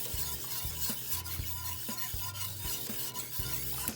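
Banana pudding is stirred in a pot with cookies and sliced bananas, a spoon scraping and tapping in a quick irregular rhythm over a low steady hum, close and without talk.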